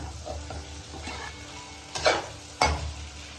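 Fried bitter gourd being stirred into potato curry in a pan. A spoon scrapes through it over a steady low sizzle, with two sharper scrapes near the end.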